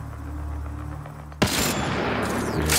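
Gunfire in the video game Mass Effect Andromeda bursts in suddenly after a quiet hum, a loud, sustained volley of rapid shots that continues to the end.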